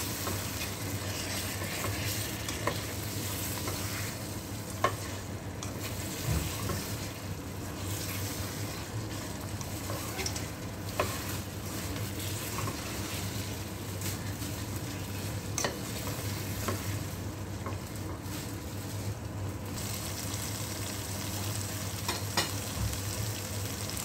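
Tomato paste fries in a pan for quail karahi, giving a steady low sizzle with repeated stirring and scraping clicks throughout, close by and fairly quiet, with no talking.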